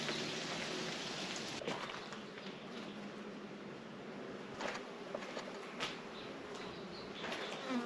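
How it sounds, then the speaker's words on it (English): Bees swarm around a beehive inside an old dairy building, a continuous soft buzzing drone heard at a quiet level with occasional closer passes. "If you're allergic to bees, you don't want to be here."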